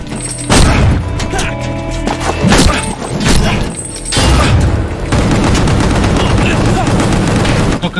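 Gunfire in the video game Gungrave G.O.R.E., loud bursts of rapid shots and heavy booms in clusters, then a sustained dense barrage, with a voice talking over parts.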